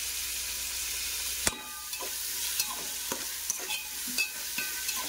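Mint and coriander leaves frying in a pan for prawn biryani, giving a steady sizzle under repeated stirring clicks and scrapes at close range, with no talking.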